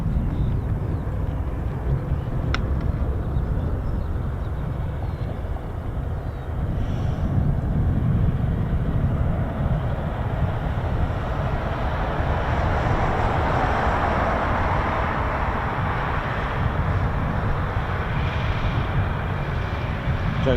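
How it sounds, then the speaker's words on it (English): A US Air Force C-17 transport aircraft flying a circuit over an RAF airfield, a continuous low rumbling jet drone that swells in the middle distance, with wind buffeting the microphone. "C-17 dropping height, looks promising"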